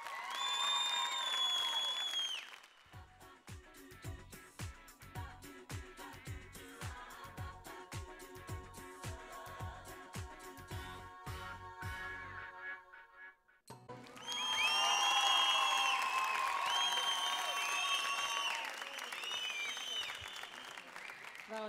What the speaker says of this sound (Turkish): Alkışlarınızla geliyor.